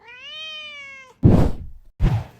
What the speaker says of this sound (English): Does anyone know what this cat wants?